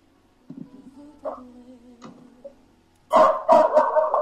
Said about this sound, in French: la soeur Albertine, le chien en train d'aboyer toujours là